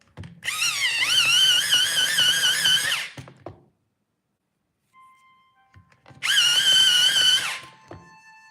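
Pencil sharpened during a live painting study: two whirring grinding bursts, each roughly three seconds long, close and fairly loud, separated by a quiet pause with faint clicks.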